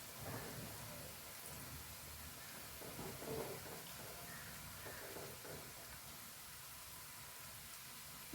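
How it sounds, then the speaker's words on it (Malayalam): Masala curry boils in a pot, producing a faint, steady bubbling hiss with soft popping throughout and no voices. "നല്ലോണം തിളയ്ക്കുന്നുണ്ട്"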